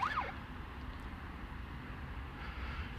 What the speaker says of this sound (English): Sirens going everywhere.